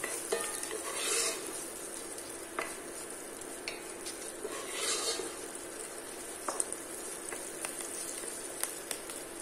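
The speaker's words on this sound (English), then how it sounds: "Allow to saute until the onions are translucent." Onions sauté gently in a pot with whole spices such as star anise, cinnamon stick, cumin and fennel seeds, giving a soft, steady hiss broken by occasional light clinks of a utensil.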